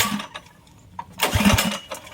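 A Predator 212 engine on a Coleman mini bike being started, with faint pulls and sputters followed by a loud, close burst as it catches and revs roughly.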